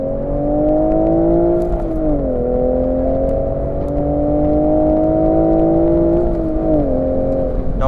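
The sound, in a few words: Toyota Supra MKV manual exhaust sound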